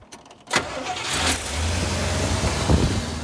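A 1986 Chevy C20 squarebody pickup engine cranks briefly, then catches and settles into a loud, steady idle close by, with a brief rev partway through and no talk.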